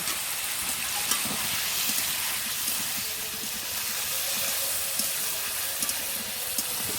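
Kohlrabi is sautéed in a pan with ginger paste, cumin paste and chilli, giving a continuous hissing sizzle with small scattered crackles and scraping stirs throughout.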